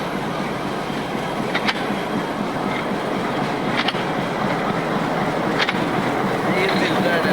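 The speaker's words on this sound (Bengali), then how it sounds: "এটা হলো ইঞ্জিন আর এটা হলো পুরা ট্রেন।" A train and its locomotive engine at Komlapur rail station in Dhaka, giving off a steady, loud rolling rumble with a few sharp metallic clicks over several seconds.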